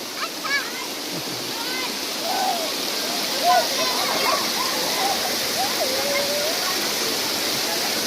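Rushing water at Satluj park in Nangal, a steady broad roar of flowing water running throughout, with children's voices and chatter audible over it.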